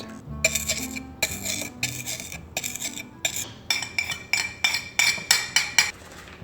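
Monk fruit sweetener being crushed by hand instead of ground in a spice grinder, a series of sharp scraping, clinking strokes that grow more regular and rhythmic toward the end, close and alone.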